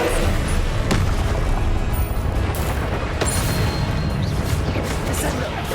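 Depulso force-push spell cast in Hogwarts Legacy on PS5 Pro, a sharp booming impact with a crashing burst amid dense, loud game effects and ambience.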